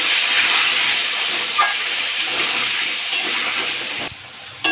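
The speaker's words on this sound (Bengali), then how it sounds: "হলুদ দিয়ে দেবো, লবণ দিয়ে দেবো, আলুগুলো ভালো করে ভেজে নেব" Potatoes seasoned with turmeric and salt fry in hot oil for a potato curry, giving a loud, steady, close sizzling hiss that runs almost unbroken, with no talking.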